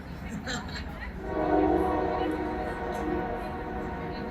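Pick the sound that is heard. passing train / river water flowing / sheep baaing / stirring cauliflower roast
passing train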